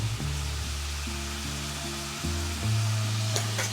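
Garlic and ground beef sizzle steadily in a pan for spaghetti ragu sauce, a continuous close frying hiss with a low hum underneath and a brief stir clatter near the end.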